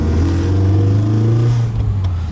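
A BMW E36 318i four-cylinder with coilovers revs up close by, its intake producing a loud, rising throaty roar that holds for about two seconds, then cuts off with no talking.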